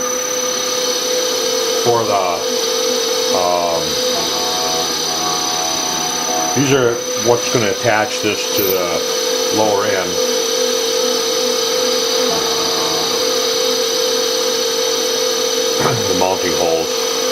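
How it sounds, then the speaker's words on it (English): A steady, whining power drill motor runs throughout, drilling mounting holes, while someone talks over it, the tool close by and continuous. "I'm busy drilling the holes"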